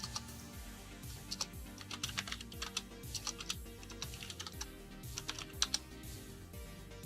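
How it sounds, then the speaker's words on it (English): Typing on a computer keyboard heard close up: quick, uneven bursts of key clicks and clacks keep going throughout, with a few louder strikes near the end and a low room hum underneath. "What are you typing there, Kaus?"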